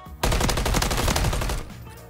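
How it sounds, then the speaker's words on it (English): A rapid burst of assault rifle fire in the video game Modern Warfare 3, loud, close and continuous for about a second and a half before cutting off, with no talking. "I've been getting most of my kills with this assault rifle."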